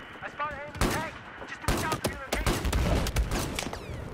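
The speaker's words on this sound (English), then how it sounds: "I don't know who's shooting me." Bursts of gunfire from a Battlefield 4 multiplayer match on PS4 crackle loudly and close, rapid shots overlapping into a dense fusillade while voices are heard in the mix.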